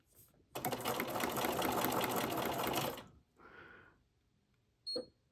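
A sewing machine runs a straight stitch through paper in one quick close burst of rapid mechanical whirring, then a softer short whir and a brief click as it stops.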